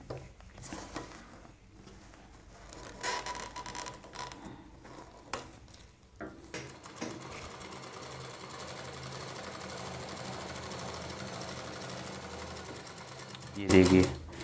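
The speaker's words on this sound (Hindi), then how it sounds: "अब हमें यहाँ पर एक सिलाई लगा देनी है" A sewing machine stitches a kanchali blouse sleeve. After some stop-start handling noise and talk, it settles into a steady, close whirring run of several seconds and ends in a sharp burst.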